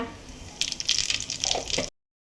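Cooking oil poured into a pan for bagara rice gives a steady hissing gush lasting about a second and a half, then cuts off abruptly to silence.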